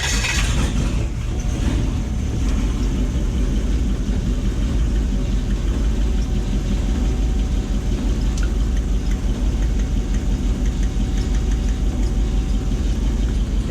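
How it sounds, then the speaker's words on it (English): Steady rumbling idle of a 1UZ-FE V8 jet boat engine running on six cylinders with one misfiring, an uneven, stumbling pulse, loud and continuous throughout, no voices. "So I've got a couple of moments just to confirm which cylinder isn't running."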